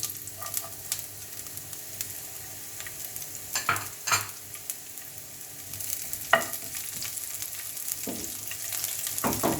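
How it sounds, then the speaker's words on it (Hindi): Steady soft sizzling of garlic frying in a pan, with occasional scrapes and clatters of stirring; no talking. "इसके साथ अब हम लहसुन डाल लेंगे।"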